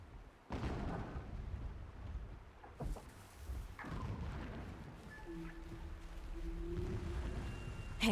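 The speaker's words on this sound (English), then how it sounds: "Explosions in the distance." Distant explosions in the Horizon Zero Dawn video game: several deep, muffled booms roll in at intervals over a low ambient rumble, with tonal game sounds rising near the end.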